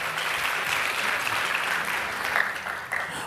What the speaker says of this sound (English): please, one more round of applause for our incredible musicians for this afternoon's Arangetram